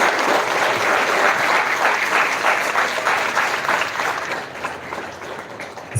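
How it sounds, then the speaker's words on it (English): Audience at a Republic Day celebration giving a round of applause, full dense clapping that holds steady and then gradually thins and fades toward the end. "Give a round of applause to them."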